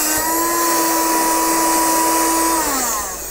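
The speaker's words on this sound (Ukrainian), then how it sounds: "ось ця модель пилососа за рахунок сили всмоктування може утримувати всього-навсього 10 листочків вагою приблизно 50 грамів" A STHOR 82954 cordless car vacuum cleaner running with a loud, steady high whine and airflow hiss close up, the pitch dropping as the motor winds down near the end.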